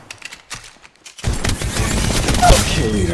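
Rapid bursts of gunfire in the mobile battle royale game Apex Legends Mobile, a dense sustained fusillade starting after a quieter opening of scattered distant shots, loud and continuous with overlapping reports.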